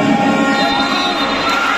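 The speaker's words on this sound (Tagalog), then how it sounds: "And the crowd is live." A crowd at a basketball league finals game cheers and shouts loudly and continuously, with children's shrill voices standing out in the close, dense roar.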